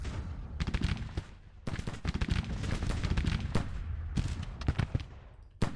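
Musket and artillery fire from units engaging targets in the Grand Tactician strategy game, a dense, loud crackle of overlapping shots in continuous volleys with brief pauses between bursts.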